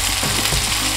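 Potatoes added to cooked tomatoes fry in a pan with a loud, continuous dense sizzle, close up and uninterrupted for a brief moment.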